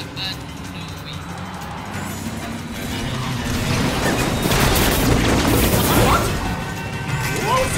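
Missile launcher blasts and crashing impacts in the Cars 2 racing video game, building into a dense, loud barrage of booms and smashes over continuous game noise, with speech mixed in.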